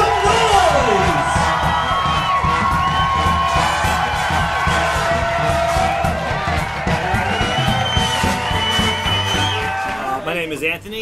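A packed comedy club audience cheers loudly, with whoops and shouts over a continuous wash of clapping and crowd noise that eases slightly near the end.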